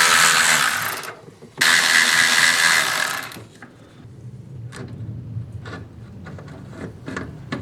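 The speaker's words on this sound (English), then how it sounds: "I use this handy little vacuum brake bleeder. Just sucks all the fluid out of there" Two loud bursts of harsh airy suction hiss, each a second or more, as a handheld vacuum brake bleeder sucks fluid from a brake line, followed by quieter gurgling and scattered clicks nearby.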